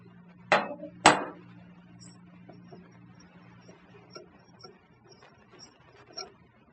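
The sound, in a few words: wrench loosening AR-15 flash hider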